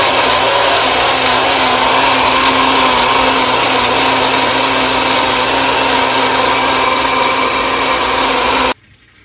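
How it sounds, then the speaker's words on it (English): A bullet-style personal blender runs on a mix with peanut butter, a loud steady motor whine with a hum that holds unchanged for about nine seconds, then cuts off abruptly. "I'm actually blending that in my bullet with peanut butter"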